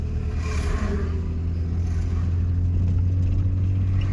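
A learner's car on a main road shifting into second gear, its engine giving a steady, loud low rumble that holds through the whole stretch with no talk over it.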